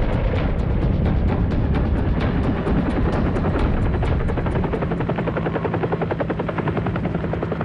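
Massed American military helicopters lift off during the Vietnam War, a fleet of 120 ferrying ARVN ground troops toward Tchepone, their rotors beating in a loud, steady, overlapping thump with dense engine whine throughout and no voices.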